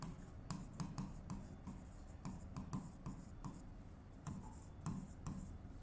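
A pen scratches across paper as an accounting entry is written out by hand. The strokes come in short, uneven rhythmic bursts, close and quiet, with no talk.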